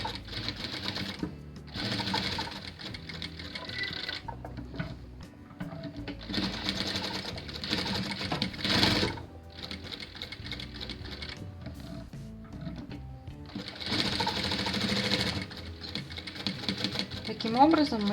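A sewing machine stitches fabric pieces for a bubble puff quilt, its steady mechanical whir running in several bursts separated by short pauses, with a voice talking between them.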